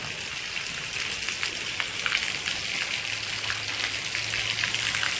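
A steady patter of light drizzle on a surface, with fine dripping and a soft hiss that runs evenly throughout as the water drains into a pit.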